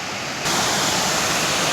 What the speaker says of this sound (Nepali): मार्कुको मोहिनी झरना राम्रै रहेछ, पौडी खेल्ने ठाउँ ठिकै रहेछ।